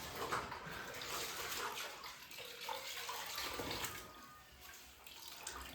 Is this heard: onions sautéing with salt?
no